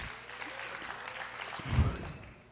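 An audience at a church gathering claps steadily, a mid-level spread of applause swelling briefly near the end, with a voice speaking over it.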